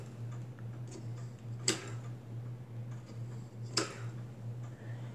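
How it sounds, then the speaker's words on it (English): A film projector's ratchet ticks softly and evenly as the reel is spun by hand. Two sharper knocks stand out over a faint, steady hum, and the clicking sounds close and quiet. "So if I spin this by hand, you can hear the ratchet go."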